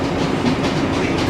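A train near St Ives passing close by, a loud continuous rumble and rolling rattle of carriages that holds steady throughout.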